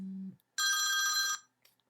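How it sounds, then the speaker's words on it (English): A T-Mobile G1 smartphone rings once, a bright electronic ringtone lasting under a second, preceded by a short low hum and followed by a faint trailing blip, heard close up with no talking. "Phone's ringing there."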